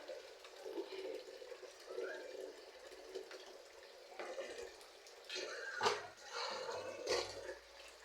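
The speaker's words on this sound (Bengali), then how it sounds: "এখন ভালো করে 3-4 বার, মানে যতক্ষণ না পরিষ্কার হয় অতক্ষণ আমি ধুয়ে নেব" Small fish being rinsed in water by hand, faint splashing and trickling in short bursts with a couple of louder sloshes toward the end.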